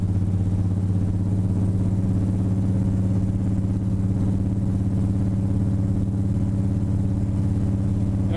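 A 1949 Ford shoebox car fitted with electric power steering drives down the road, its engine a steady low drone with constant rumble from inside the cabin, unbroken throughout.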